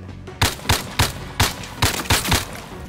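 Gunfire from a VR shooter game, Zero Caliber: seven loud, sharp shots in an uneven series, each a broadband crack with a short tail, over steady background noise.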